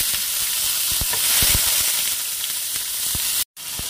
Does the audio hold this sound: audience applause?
no